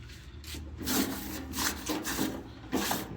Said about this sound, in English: Get all that old silicone right here off.